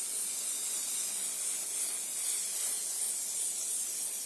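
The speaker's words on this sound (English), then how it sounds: "Might as well spray it." Aerosol fixative sprays steadily onto a pastel artwork, a continuous close hiss lasting several seconds with no pauses and no voices.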